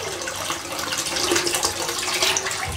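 Tap water running steadily while a wide-headed single edge safety razor, a Claymore Evolution, is rinsed out, a continuous close splashing hiss.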